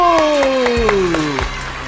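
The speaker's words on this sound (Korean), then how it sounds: "박수!" Children at a church summer Bible school clap in quick, rhythmic bursts, loud and close, while a voice glides downward over the clapping.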